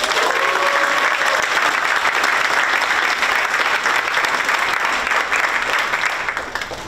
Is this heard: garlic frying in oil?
no